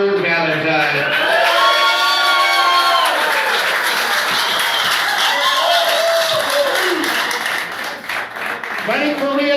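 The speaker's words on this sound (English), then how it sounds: "Round of applause for Paul W. Valentine." An audience at a golf outing event applauds and cheers loudly and steadily, with whoops and shouts on top of the clapping and a voice talking over the crowd near the end.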